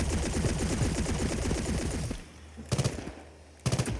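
Submachine gun fire in a video game: a long, loud, rapid automatic stream for about two seconds, then a quieter lull broken by two short bursts.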